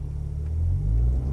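A tuned BMW 335i with the N54 turbo engine revving at launch, heard from inside the car as a loud, deep, rumbling roar that swells over a brief moment.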